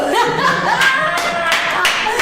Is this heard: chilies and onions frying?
no